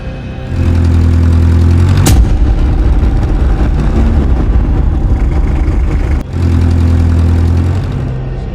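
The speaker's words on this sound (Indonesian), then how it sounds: "Itu suara mobil." A car engine runs loud and steady at close range with a deep low rumble, broken by a sharp bang near two seconds and a brief dip just after six seconds before the idle resumes.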